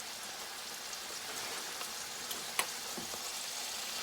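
Thin slices of butter melt and sizzle in a pan beside grilled pork chops, giving a steady, close hiss with tiny pops and one sharper crackle.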